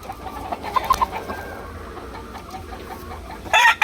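Sweater-bloodline gamecock from a game farm, a few soft clucks against steady outdoor background noise, then a louder, sharper call near the end.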